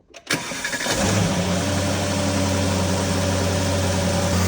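A car engine fires up abruptly after a moment of quiet, then revs and holds a loud, steady, rough mid-pitched roar close by for several seconds.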